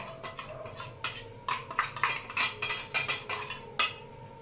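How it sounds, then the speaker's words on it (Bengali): Powdered gatte frying in ghee in a pan, heard as a run of close metallic scrapes and clinks of a spoon stirring against the pan, fairly loud with no voices. "গাঠটিগুলোকে আস্তে করে আমি এভাবে ভেজে নেব ঘিতে"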